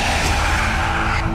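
A car brakes hard and its tires skid on the road, a loud sustained screech lasting about a second before cutting off abruptly.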